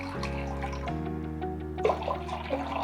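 Water poured into a pan to set up a bain-marie in a home kitchen, a continuous close gurgling flow with some splashing, no speech.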